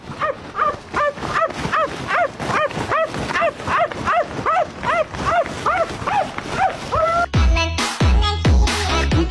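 A dog barks in a quick, rhythmic run of loud yips close by, with a few heavier thumps and knocks near the end.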